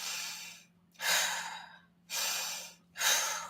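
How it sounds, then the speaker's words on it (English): Deep breaths drawn in and let out, sharp inhales that raise the shoulders, heard three times in a rhythmic cycle, close and fairly quiet, with no talking. "when we take a deep breath, a lot of us go like this"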